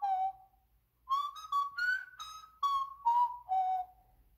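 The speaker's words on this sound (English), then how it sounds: "And he'll whistle too." Ben, the cartoon dog in the Talking Ben video game, whistles a clear, bright tune of about eight sustained notes, close and fairly quiet, with short gaps between phrases.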